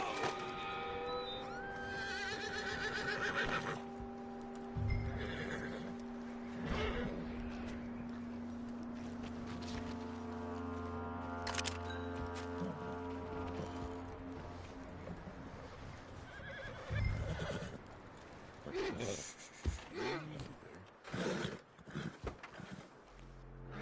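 Horse whinnying loudly, with long tonal neighs and snorts rising over a busy background of clattering hooves and ambient noise, the calls repeating several times through the stretch.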